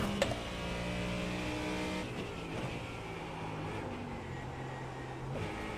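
A GT3 race car engine in a racing video game drones steadily at a fairly low level, its pitch shifting as it revs, with no voices.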